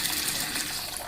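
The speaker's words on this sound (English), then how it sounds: "Put some water into the bowl." Warm water is poured into a bowl as a steady, close splashing rush filling the whole moment, fairly loud and unbroken, with no voices.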